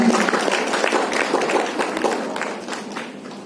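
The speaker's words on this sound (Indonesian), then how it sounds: "Beri tepuk tangan yang meriah, Bapak Ibu sekalian." Dense applause from a lecture audience, many hands clapping at once, loud and sustained before gradually easing off.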